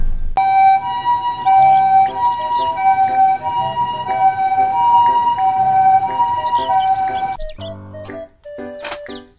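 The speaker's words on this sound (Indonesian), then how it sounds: "Mobil ambulans." An ambulance siren wails loudly and steadily in a two-tone pattern for several seconds, then cuts off, followed by a few brief clicks and beeps.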